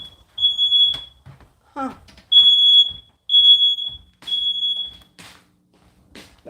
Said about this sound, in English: why is my smoke detector going off?